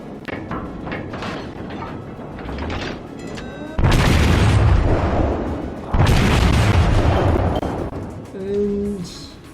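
Main guns of the Nagato, an IJN tier 7 battleship in World of Warships, fire two heavy salvos about two seconds apart, each a loud, deep boom with a rumbling tail over a steady background din.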